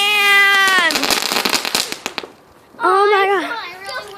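Fireworks crackle and pop in a rapid burst of sharp bangs. A high, wavering, tonal cry or squeal comes before and after the bangs, and there is a short gap of near-silence in between.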